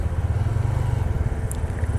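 A motorcycle rides along a road slick with spilled diesel and oil, its engine a steady, loud, close drone with continuous rumbling and no speech over it.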